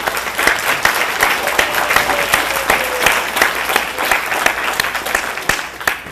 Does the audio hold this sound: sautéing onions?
no